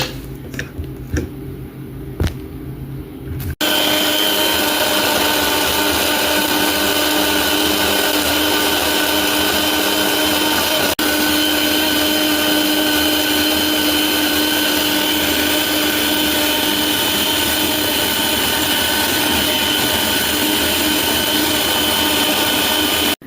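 A blender-type machine churning lemon with its seeds and water for homemade ice cream starts after a few soft knocks, then whirs loudly and steadily without a break, close up.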